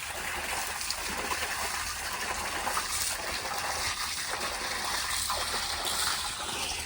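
Water gushing steadily from a farm motor pump pipe onto a maize field, a constant loud rushing splash with no pauses.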